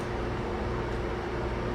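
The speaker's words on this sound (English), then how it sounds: "Excuse the noise of the fan, y'all." A room fan running on a hot day, a steady, even broadband whoosh with a low hum, continuous and fairly close, with no voices over it.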